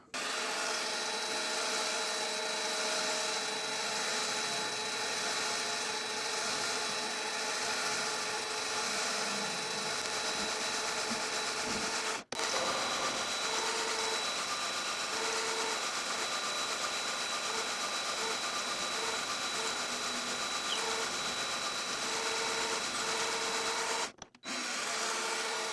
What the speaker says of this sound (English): This is the same center drill I was using on the other machine